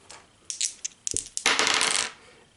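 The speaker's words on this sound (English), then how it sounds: "So she gets to roll 2 red dice" Red dice for the Descent board game rattle in a hand and then tumble onto the table, a few clicking knocks followed by a brief rolling clatter, close and fairly loud, with no talk.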